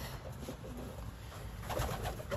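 A racing pigeon coos softly and steadily nearby against a constant background hum, with no talking.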